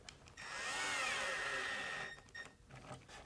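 A power drill drives screws into a table saw sled runner: one steady, high-pitched whirring run of about two seconds, then a few short bursts, fairly quiet and close, with no talking.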